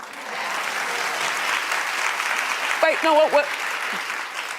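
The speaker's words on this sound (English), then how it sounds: "Clap if you don't." A television talk show studio audience claps in a broad, steady wash, then a voice speaks briefly over the tail of the applause.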